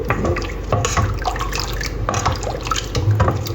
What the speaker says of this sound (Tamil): இப்போ வந்து சர்பத்து ஊற்றுவோம்.